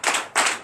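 Sharp rhythmic handclaps at a Beninese morning prayer service, three loud bursts in quick succession, close by and without speech.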